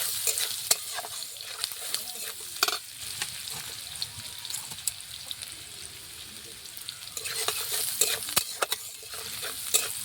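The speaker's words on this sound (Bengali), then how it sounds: "একটু লাল হলে পেস্ট করা মশলাটা দিয়ে দিলাম।" Spice paste sizzles in a pan over fried onions for a fish curry with elephant foot yam, with frequent scraping stirs and clicks of the spoon above the constant frying hiss.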